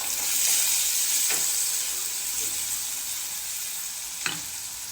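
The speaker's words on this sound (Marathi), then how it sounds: "आता हे कमी गॅसवरती टोमॅटो छान असं शिजून घ्यायचं आहे" Tomatoes gently sautéing in a pan over low gas for a potato curry, a soft steady sizzle with a couple of faint utensil scrapes, close by and unaccompanied by speech.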